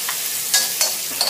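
Pork ribs get stir-fried with curry paste in a pan, a close, dense sizzle broken by three quick scraping strokes of a spatula across the metal over just over a second.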